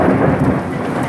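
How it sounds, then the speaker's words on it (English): Deep thunder rumbles loudly and continuously beneath a steady hiss of heavy rain. "so you guys can actually hear thunder."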